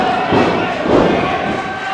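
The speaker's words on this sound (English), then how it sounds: "It's a big dull thud on that one." Heavy, dull thud of a body hitting the mat during a pro wrestling match, two muffled impacts under the arena's crowd noise and a commentator's talk.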